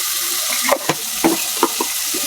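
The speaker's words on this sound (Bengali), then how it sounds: "হালকা ভাজা হয়ে গেছে তো পেঁয়াজ আর জিরাটা এখন ধনিয়ার গুঁড়া দিয়ে দিলাম" Onion, cumin and coriander powder stir-fry in a pan for a lau and prawn curry, a constant sizzle with several sharp scraping strokes of the spoon, close and clear.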